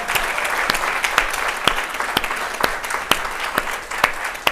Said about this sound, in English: let's give the Haitian Ladies Network a round of applause for gathering us